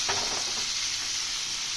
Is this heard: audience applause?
no